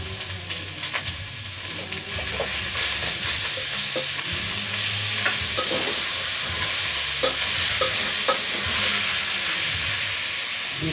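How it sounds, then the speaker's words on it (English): Liver fries in a pan over low heat while being stirred: a loud, continuous close sizzle and hiss with repeated scraping strokes of the stirring utensil throughout. "Then I want to stir it again."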